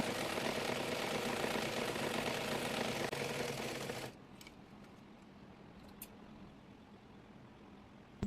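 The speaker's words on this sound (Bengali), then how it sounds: "অপর সাইডে ব্যাক স্টিক দিয়ে সেলাই করে নেব যেন খুলে না যায়" An electric sewing machine runs in a steady, loud mechanical whir while stitching a petticoat seam, continuing for about four seconds before it stops, leaving quieter room noise with a few faint clicks.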